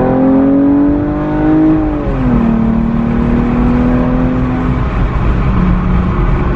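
A 2015 Chrysler 200 with a 3.6L V6 and a ported 80mm throttle body accelerating: a loud, steady engine drone that rises in pitch, drops at a gear shift, then climbs smoothly again, heard close from inside the car.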